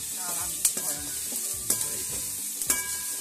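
Onions sautéing for mushroom gravy sizzle steadily in a pan, with three sharp spatula scrapes standing out against the continuous frying hiss; no talking.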